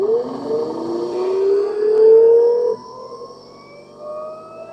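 A Rotax 503/582UL two-stroke ultralight aircraft engine revs up during charging system troubleshooting, its tone climbing steadily as it spins up toward 3,300 RPM, then settling into a steadier, quieter run, loud and close with no talk.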